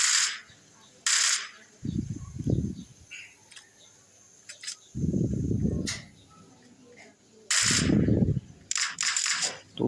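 Gunfire in the video game PUBG comes as three heavy rumbling bursts of shots spaced a few seconds apart, mixed with short, sharp, crackling reports in between.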